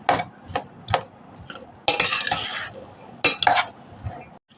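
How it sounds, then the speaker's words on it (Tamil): A spoon scrapes and clinks against a bowl in short bursts as sweet corn is stirred and mixed with cheese, close by. "சீஸ் போட்டு நல்லா மிக்ஸ் பண்ணியாச்சு"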